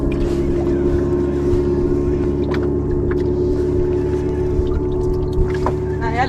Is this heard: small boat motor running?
yes